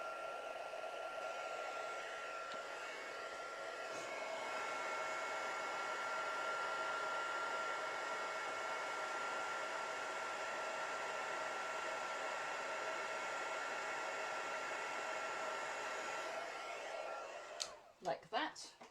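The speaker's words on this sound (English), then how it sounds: "So I'm just heating up my heat gun." A heat gun blows continuously for a long stretch, a steady airy roar with a faint whine, before it is switched off and a few handling knocks follow, with a person talking at times.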